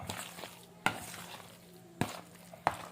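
Food fries in hot oil in a pan. A steady sizzle runs throughout, broken by a few sharp knocks and clatters from a utensil against the pan.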